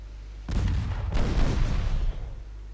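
Heavy 4.3-inch naval guns on a battleship in an 1895 Norwegian campaign sea battle fire two booming salvos that roll on into a long rumbling tail, loud and close with no talk.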